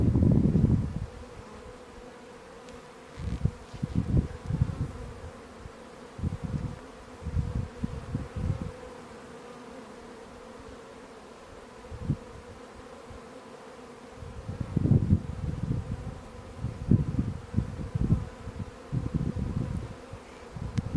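Honey bees buzz in an open beehive during an inspection, a steady close drone with louder swells as insects pass near, no talking.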